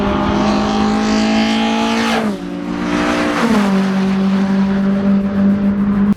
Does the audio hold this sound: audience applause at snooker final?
no